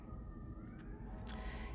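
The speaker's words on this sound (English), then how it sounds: "we have the fire trucks or ambulances or whatever going by" A fire truck or ambulance siren passes outside, a faint wavering wail heard from a distance over steady low background rumble.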